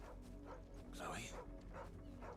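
A dog in the video game Final Fantasy XVI gives a few short, soft barks and yips, quiet and mixed among game sounds.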